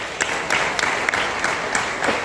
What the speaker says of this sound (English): A round of applause for us all.